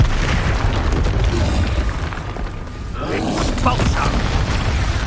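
A spell explosion booms in the wizarding game Hogwarts Legacy, a heavy continuous rumble with a burst near the middle, loud and close, with speech mixed in.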